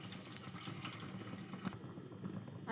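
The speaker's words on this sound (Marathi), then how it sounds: "तांब्या भरून 3 तांबे पाणी घालायचं ह्याच्यात" Water poured from a small metal pot into a cooking vessel, three potfuls adding up to about three litres, for homemade rava papad; a steady, fairly quiet splashing and gurgling runs throughout with no talk.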